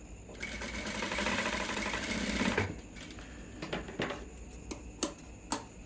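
A sewing machine runs a double repeat stitch on a pant cross pocket, a close steady whirring burst for a few seconds, then stopping into quieter clicks and a few sharp taps of handling.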